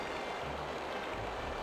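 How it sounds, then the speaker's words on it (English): A waterfall in the video game Alundra pours steadily, a continuous rushing wash of falling water that stays even and moderately loud throughout, with no voices. "Let's look at the waterfall."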